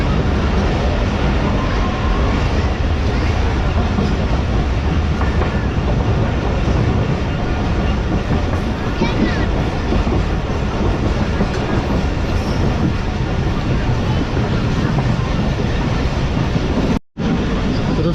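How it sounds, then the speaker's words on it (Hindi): An express passenger train runs at high speed on rails in heavy rain near Karachi, a loud continuous rumble with rhythmic wheel clatter and rushing noise, heard from on board with a brief dropout near the end. "तो ये ट्रेन हमारी लांडी जंक्शन रेलवे स्टेशन को स्किप कर रही है"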